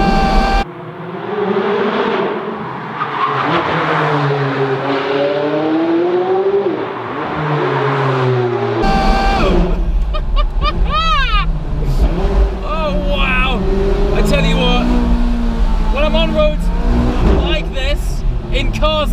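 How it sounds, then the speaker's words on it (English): McLaren 540C sports car drives along a narrow mountain road, its engine droning and rising and falling in pitch through gear changes, loud and close, with someone talking over it much of the time. "this beautiful 540C, which sounds fantastic"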